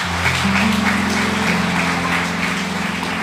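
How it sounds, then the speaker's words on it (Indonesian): Church congregation clapping together during a worship service, a dense, steady wash of applause over sustained keyboard or organ tones that carries evenly for the whole stretch. "Bisa berikan tepuk tangan untuk Tuhan"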